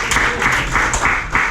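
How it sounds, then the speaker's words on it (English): A conference audience at a Hamburg tech event briefly applauds one attendee, a short burst of dense clapping from a crowd in a hall. "Applause for this person, please."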